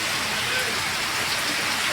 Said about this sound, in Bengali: রেকর্ড পরিমাণ বৃষ্টি আজকে